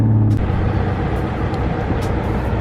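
A car accelerating hard in second gear, wheels spinning, heard as a loud continuous broadband roar with engine tone, close and steady throughout, no speech.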